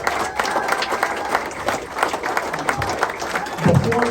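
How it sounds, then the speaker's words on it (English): An audience giving a round of applause at an award ceremony, dense clapping and some crowd noise, with a brief voice near the end. "Ladies and gentlemen, please give a big round of applause to Joe Defino."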